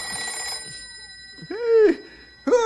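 A telephone bell rings in a vintage radio drama set at a ranger headquarters, with a bright metallic ring at the start followed by short, loud, sweeping rings that come and go in bursts.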